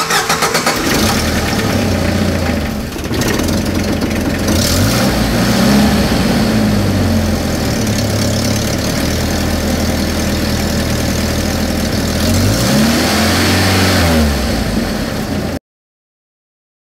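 A Jeep engine cranking and catching after a jump from a portable power pack, then running with a loud, steady idle close by, with revs rising and falling briefly near the end.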